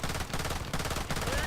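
Rapid automatic bursts from an FNP90 in a video game, loud and continuous with brief gaps between strings of shots.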